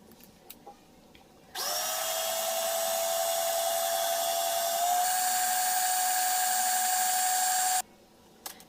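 An electric mixer beats doughnut batter with eggs, a steady high whine that starts abruptly, runs for about six seconds, shifts pitch slightly midway and then cuts off, loud and close.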